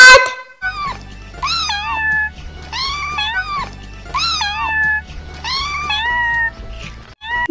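A cat meows repeatedly and loudly up close in a children's cartoon alphabet song, about five drawn-out, wavering cries in quick succession over a faint low backing tone.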